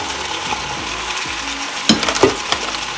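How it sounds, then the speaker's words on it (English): Ackee added to a hot pan during the cooking of ackee and salt fish, giving a steady frying sizzle with a few close clatters and clinks as it is gently tossed; no talking. "So now I'm going to add my ackee"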